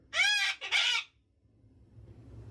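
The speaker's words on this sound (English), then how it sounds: "that does not include a bird screeching in my ear" A rooster crows loudly and close in a single two-part call lasting about a second, followed by quiet low background rumble.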